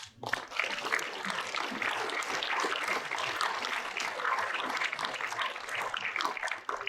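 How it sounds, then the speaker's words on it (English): A crowd at a cast and crew Q&A for the film Tremors breaks into loud, sustained applause, a thick continuous roar of many clapping hands with scattered cheers, close and full throughout. "So why don't you guys give yourself a round of applause?"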